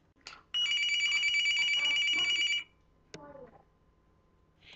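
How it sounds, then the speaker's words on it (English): A cartoon alarm rings loudly in a sustained, steady electronic trill for about two seconds, then cuts off, followed by a brief twangy sound effect; quiet background sounds precede it. "But suddenly, an alarm went off."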